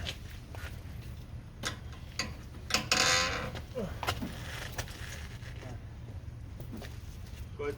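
Winch dragging a car up onto a trailer, heard as faint mechanical ticking, clicks and creaks with a brief louder rattle partway through, under soft background noise and occasional voices.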